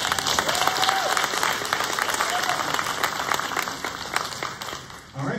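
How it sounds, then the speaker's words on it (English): Audience applause at an internships and apprenticeships event, sustained clapping from a crowd for several seconds before tapering off. "Give her applause for that."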